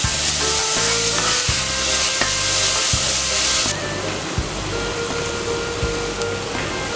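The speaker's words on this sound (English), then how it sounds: "I'm going to add in 1 tablespoon of brown sugar and let it cook with your onions" Onions cook with a tablespoon of brown sugar in a hot pan, a constant loud sizzle with a spoon scraping and stirring in regular strokes, the hiss softening partway through.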